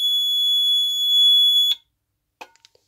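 An AVISS RP2 fire alarm control panel sounds its fault signal, a steady high-pitched electronic tone lasting under two seconds, then cutting off, followed by a few faint clicks.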